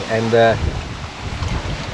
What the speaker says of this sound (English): the wind is pumping today